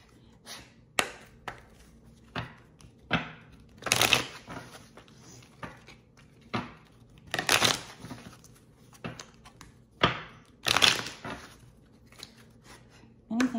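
Soul's Journey oracle cards being shuffled by hand, giving repeated crisp riffling bursts and soft slaps at an uneven rhythm, close and fairly quiet, with faint background hum between them.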